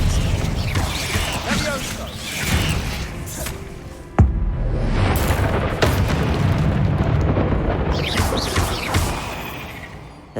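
A spell blast from the Hogwarts Legacy video game cracks in with a sudden sharp hit, set against a dense, continuous rumble of game effects and mechanical clatter.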